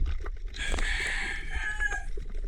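Chickens clucking and a rooster crowing nearby, a loud drawn-out call over a steady background of farmyard noise.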